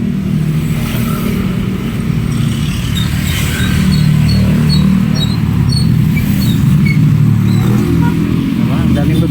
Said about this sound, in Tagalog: Ang daming mabibilis na motor, nakakatakot.